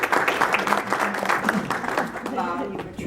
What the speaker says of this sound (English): my dad wants you all to give his Wheezy a round of applause